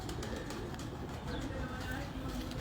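A Miyan Sahab breed pigeon coos softly amid a steady, noisy background, with people talking nearby throughout.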